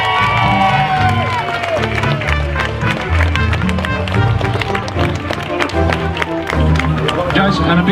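A crowd at a rugby league fun day in Dewsbury cheers and whoops for the junior players, with children shouting and voices mixed into a lively, continuous roar.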